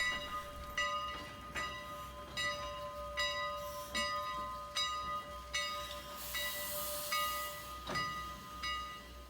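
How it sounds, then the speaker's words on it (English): Strasburg Rail Road steam train in Pennsylvania pulling back into the station, with a steady ringing bell struck in a regular rhythm over a hissing, rumbling background and a burst of steam hiss partway through. "The train is returning from one of its runs to the town of Paradise, Pennsylvania, and back"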